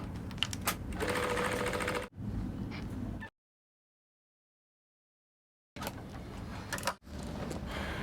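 A sewing machine stitches a pleat on a dress toward the hemline in close, rapid clattering runs broken by abrupt cuts and a stretch of silence midway.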